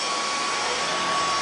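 A cordless stick vacuum cleaner runs indoors with a steady, loud, close whirring hum that holds level throughout, with no talking.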